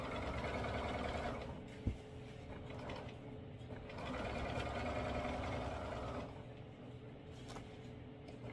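Domestic sewing machine stitching garment fabric, its steady motor hum running in long bursts with brief pauses between seams, close and moderately loud.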